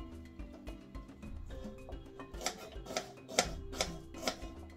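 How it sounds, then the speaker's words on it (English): A knife cuts up an onion on a board in a string of soft, quick taps and chops that grow sharper and more distinct toward the end, close and fairly quiet with no talking. "the first thing I'm going to do is cut up my onion left from my noodle"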